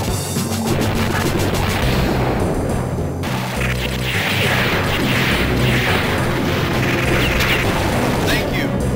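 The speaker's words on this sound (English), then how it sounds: "Heavy machine gun." Heavy machine gun fire in the arcade game Metal Slug 3, a dense continuous rattle of shots mixed with explosions and game effects throughout, loud and unbroken.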